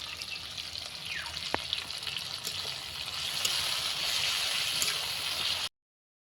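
Ginger-garlic paste frying in a pan for Assamese-style biryani, a steady soft hiss and bubbling crackle running nearly throughout, growing slightly louder toward the end, with no voices.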